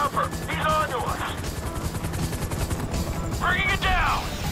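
A helicopter in GTA 5 during a raid on the Bureau drones low beneath bursts of gunfire, while voices talk over the action.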